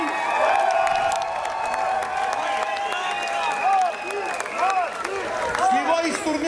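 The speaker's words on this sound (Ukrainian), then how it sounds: "Оплески їм!" Audience at a Ukrainian festival applauds and cheers a band after their concert, a sustained wash of clapping with whoops and shouts rising through it.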